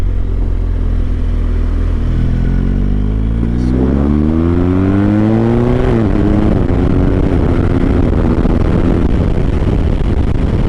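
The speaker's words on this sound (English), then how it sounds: "Definitely a deeper sound than on the stock exhaust." BMW R18 B motorcycle with an aftermarket exhaust, a loud, deep engine note rising through gears as it accelerates, then settling into a steady rumble with wind noise at speed.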